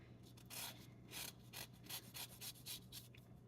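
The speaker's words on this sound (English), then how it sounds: "I'm supposed to zest this lime, so let me do that right now with my jalapeno hands." A fresh lime is scraped across a zester in about ten quick rhythmic strokes, each a crisp, close rasping burst separated by short pauses, with no voices.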